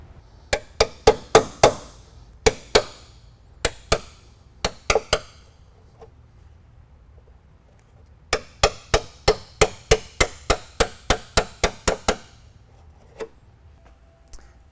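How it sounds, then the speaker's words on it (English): Panel separator working through spot-welded ultra-high-strength steel car body panels, giving sharp metallic clinks in quick bursts: a cluster early on, scattered strikes, then a long rapid run of about a dozen hits, close and loud with no talk. "I'm going to use the panel separator, finish separating the panels"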